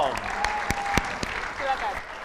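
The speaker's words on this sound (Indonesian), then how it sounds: "Oke Indonesia, sekali lagi beri tepuk tangan yang meriah untuk Mudrika Hidayat Bacong." Studio audience applause at an Indonesian TV talent competition show finale, a broad steady wash of clapping lasting a couple of seconds with a few sharper hits and faint voices mixed in.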